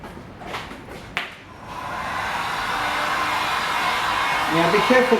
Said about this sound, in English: I'm going to get my dryer and express dry that